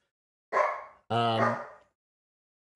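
Puppies play and bark indoors, two short close yappy barks in quick succession with a faint yip right at the end.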